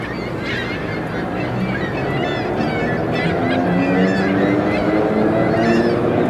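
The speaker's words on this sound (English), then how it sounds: "Called the birds." Geese honk repeatedly in the distance over a steady low rumble of engines and water, the calls scattered throughout.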